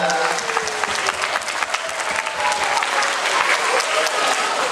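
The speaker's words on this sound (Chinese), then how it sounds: "小朋友用掌声来谢谢这些为我们付出的所有的人" Sustained applause from a crowd of schoolchildren at a school year-end gathering thanking the staff, dense steady clapping throughout with no gaps.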